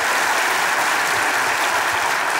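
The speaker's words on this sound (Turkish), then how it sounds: "Ama performans olarak Safa ve Cemile'ye bir ayrı bir alkış almamız lazım." A studio audience at a Turkish comedy sketch show, Çok Güzel Hareketler 2, applauds Safa and Cemile's performance with steady, dense, loud clapping from many hands that fills the whole stretch.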